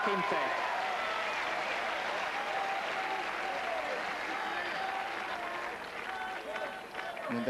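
An enthusiastic, nearly full crowd at a 1992 tennis match applauds in a dense, sustained roar of clapping that fades slightly toward the end, with a voice talking over it.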